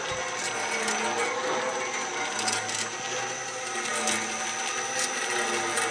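A metal-cutting band saw runs steadily with a continuous broadband whine and mechanical rattle, the motor droning at an even level throughout, with faint ticking and clicking on top and no talk.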